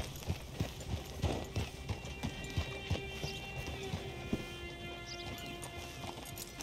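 Horse hooves in Red Dead Redemption 2 pound in a quick, steady gallop rhythm, close and clear, with a faint tonal hum running underneath.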